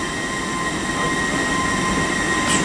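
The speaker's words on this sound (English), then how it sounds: "800 311, heading on the 1457 Great Western Railway service to Weston-super-Mare." Great Western Railway Class 800 train 800 311 at Reading station on the Great Western Main Line, a steady loud rumble and hum of the train moving through the platform with faint wheel squeal near the end.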